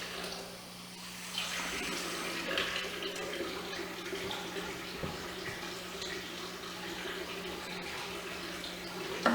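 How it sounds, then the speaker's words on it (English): Water poured into an Alka-Seltzer mixture, a steady rushing trickle that runs for several seconds at moderate loudness, with soft background noise and no talk. "now we're going to put a little bit of water in them."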